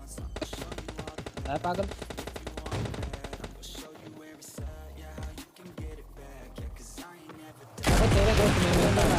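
Rapid automatic gunfire in the mobile battle-royale game PUBG Mobile Lite, loud bursts of clattering shots, some sustained runs and a dense final barrage, with players talking over it.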